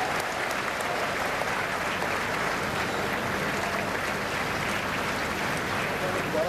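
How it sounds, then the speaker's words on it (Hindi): Sustained audience applause fills a large hall at the inauguration of the World Hindi Conference as the Prime Minister is welcomed, a steady dense clapping wash that holds at even loudness throughout with no speech over it. "जोरदार तालियों के बीच स्वागत करें"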